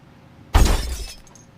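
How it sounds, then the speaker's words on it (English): Glass shattering in a single sharp crash, a loud burst of breaking fragments that tapers into tinkling debris over about a second, with no voices. "That's glass breaking, right?"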